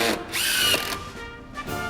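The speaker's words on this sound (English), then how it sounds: "It's because this one incorporates a small hammer action to drive the screw home." Hammer-action cordless drill driving a screw home, a loud close whirring burst with rapid rattling impacts that surges, eases off and revs again briefly, with no talk.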